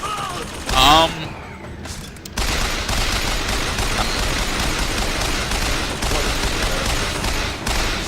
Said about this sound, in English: You don't like the machine gun I'm using right now?